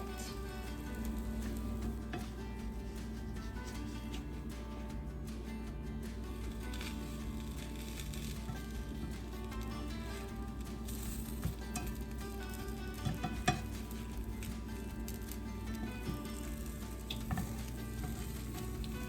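Pieces of tuna toast, a carnivore-style bread, fry in a skillet, giving a continuous even sizzle over a low hum, with a few faint pops and shifts toward the end.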